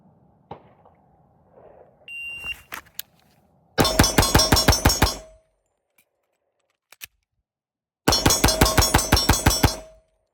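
Two rapid strings of H&K 45C pistol shots at a shooting range, each a fast series of about a dozen sharp loud reports, separated by a quiet pause with faint handling clicks.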